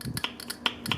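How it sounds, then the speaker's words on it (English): A Honda B16 idle air control valve pin snaps open and closed as power is applied and removed, giving a series of sharp, close mechanical clicks in quick succession. "see if we can hear the pin sliding open and closed as we apply power and remove power"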